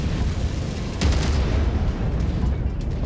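Heavy mech cannon fire and explosions in the MechWarrior 5 Mercenaries PC game, a continuous rumbling barrage with a louder booming burst midway, dense and close throughout.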